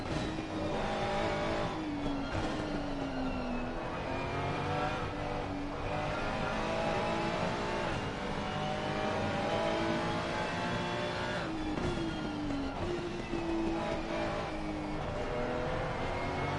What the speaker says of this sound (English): just coming around the final corner in the Aston Martin